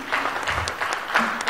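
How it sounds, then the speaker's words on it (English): An audience at an agro-industry strategy launch event applauds, with dense, lively clapping that swells and dips briefly, close and fairly loud. "Please, another round of applause for him."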